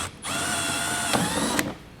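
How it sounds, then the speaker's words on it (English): A power drill with a 3/16 bit drills out a rivet on a 2022 Jeep, whirring steadily at a high pitch for over a second, with a couple of brief bites as the bit catches, then winds down. "we're going to use a 3/16 drill bit to drill up through the bottom of this rivet"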